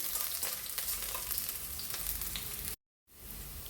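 Garlic frying in oil over a high flame makes a dense, crackling sizzle. It cuts out abruptly for a moment, then resumes.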